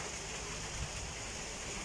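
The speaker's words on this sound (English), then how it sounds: "Now it's raining really hard." Heavy rain pours steadily on a beach in Liloan, Cebu, a dense, even hiss of water with no pauses, filling the whole scene at a constant level.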